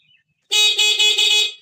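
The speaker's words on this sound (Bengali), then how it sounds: "হর্ন ফর্ন ঠিক আছে" A loud, close scooter horn blares once, with a few quick stutters in a continuous honk lasting about a second.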